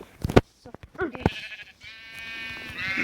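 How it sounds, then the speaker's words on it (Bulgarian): Sheep in the Minecraft video game bleating in a wavering, drawn-out cry toward the end, after a few short bursts of people talking nearby. "Овца."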